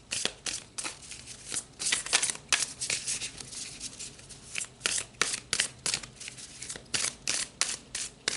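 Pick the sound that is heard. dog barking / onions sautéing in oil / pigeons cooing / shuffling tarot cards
shuffling tarot cards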